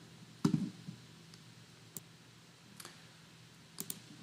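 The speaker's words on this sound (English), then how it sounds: "Clicking Run" A computer mouse clicks a Run button in test automation software, one sharper click followed by a few faint, scattered clicks over quiet room hum.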